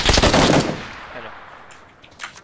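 Loud, close automatic machine gun fire in the video game PUBG, a rapid burst lasting about half a second and then tailing off into echo, followed by a faint distant shot.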